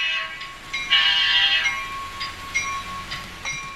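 A train locomotive near Deadwood sounds its horn in a sustained blast mid-clip, heard over a steady rolling rail rumble with a few shorter tonal accents near the end.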